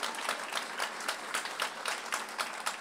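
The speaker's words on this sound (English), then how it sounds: "Please give them a round of applause." An audience at a community institute kick-off celebration applauds steadily, a dense, even roar of many hands clapping with no speech over it.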